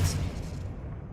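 A Confringo blasting spell goes off in Hogwarts Legacy, a short deep boom with a bright crackle at the start that decays into a low rumbling tail, moderately loud and close.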